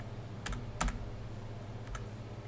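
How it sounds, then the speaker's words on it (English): Soft keystrokes tap on a computer keyboard in a few quick, faint clicks over a low background hum. "I just searched it by typing OB"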